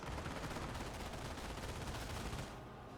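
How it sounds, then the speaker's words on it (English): Dense infantry gunfire from the Company of Heroes strategy game, with rifle and machine-gun bursts rattling continuously and loudly for nearly the whole stretch before easing slightly at the end. "We're taking infantry fire."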